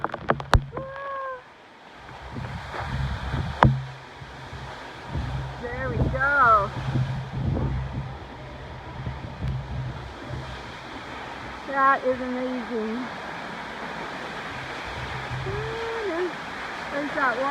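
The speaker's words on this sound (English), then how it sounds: "it's like it's raining because the force of the waterfall is just so hard" Giron waterfall (El Chorro) in Ecuador rushing hard in rainy season, a steady broadband roar of falling water running throughout, with people talking over it.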